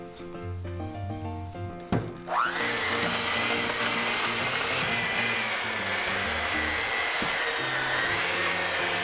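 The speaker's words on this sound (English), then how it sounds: "So now we're going to mix the sugar and the butter. Then we can go ahead and go with the stand mixer." An electric stand mixer creaming sugar and butter starts with a thunk and spins up to a loud, steady whirring drone, after some quieter kitchen sounds.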